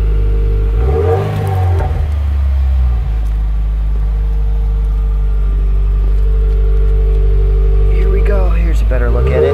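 Close and loud, a 2016 Subaru WRX with a muffler delete idles with a deep, low drone, rising into a couple of brief revs, while people talk over it.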